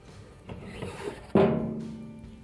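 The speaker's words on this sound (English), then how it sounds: "we'll go to the rear and finish unscrewing the blower wheel." Plastic blower wheel being unscrewed by hand from the motor shaft at the rear of an Amana dryer, a dry scraping and rubbing that grows louder halfway through and then fades, heard close up with no talking.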